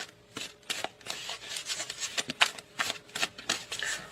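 A deck of tarot cards is shuffled by hand in a quiet room, giving a series of crisp riffling and slapping bursts at an irregular rhythm, close and fairly soft, with no talking.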